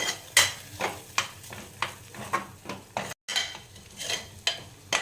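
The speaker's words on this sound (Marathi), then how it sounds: "हे सगळं छान परतून घ्यायचं आहे" Spices sizzle in a pan while a spoon stirs them in regular scraping strokes, about two a second, each with a short crackle; quiet and close, with a brief gap, and no voices.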